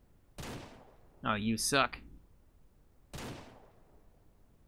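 Two sharp gunshots ring out in Ranch Simulator, evenly spaced and fairly loud, with a short spoken remark between them.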